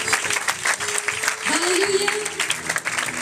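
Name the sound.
congregation applause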